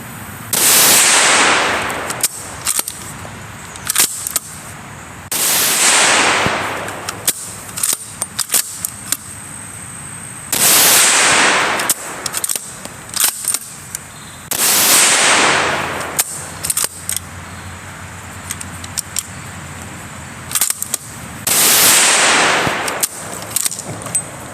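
A 300 Blackout rifle fires at an outdoor range in five separate loud volleys, each a string of sharp cracks with a bright ringing tail, separated by quieter handling noises and clicks between strings.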